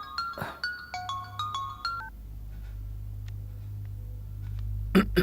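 A rapid run of phone keypad beeps sounds in quick succession, then fades to a low steady hum with a faint click near the end.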